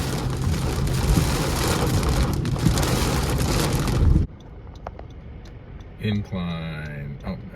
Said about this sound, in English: here comes the rain. Wow, check out the rain.